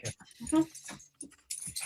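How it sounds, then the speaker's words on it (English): A small Chihuahua dog makes short whimpers and panting sounds close by, in brief bursts with gaps between them, while people murmur nearby. "this is our other one, our other Chihuahua"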